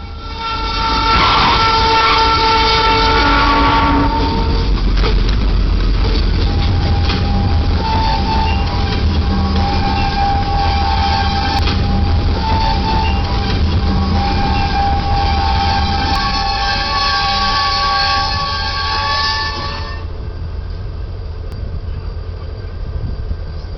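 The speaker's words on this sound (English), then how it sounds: "the train's horn kept blaring" A train horn blares loudly and steadily for about twenty seconds over the rumble of a passing train, then cuts off, leaving the rolling rumble.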